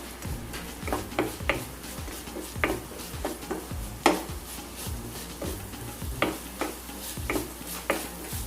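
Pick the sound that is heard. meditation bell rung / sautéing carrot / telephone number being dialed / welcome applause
sautéing carrot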